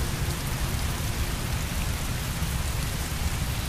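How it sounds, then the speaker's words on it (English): Steady, dense heavy rain from the video game Heavy Rain, a continuous loud hiss of rainfall with no gaps and no voices. "Heavy rain. It's been the same for weeks."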